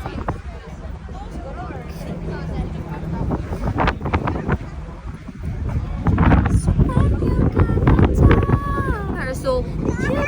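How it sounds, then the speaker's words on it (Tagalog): Strong wind buffets the microphone outdoors in Norway, a continuous roaring rumble that swells louder toward the end, with people talking through it. "Hangin jud asin."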